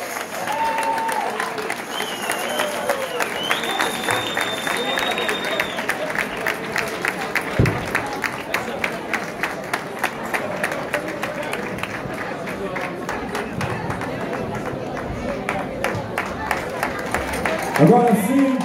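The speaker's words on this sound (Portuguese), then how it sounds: "Uma grande salva de palmas para este momento." A crowd at a carnival election ceremony claps in a steady rhythmic beat for the crowning of the mestre-sala and porta-bandeira, with music-like tones and crowd chatter mixed in and a louder burst at the end.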